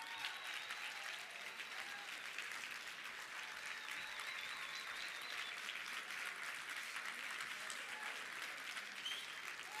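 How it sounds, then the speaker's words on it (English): An audience at a live sourcing-event award ceremony applauds a winner with sustained, even clapping and scattered cheers, crowd-sized and fairly distant, continuing steadily throughout. "Great round of applause."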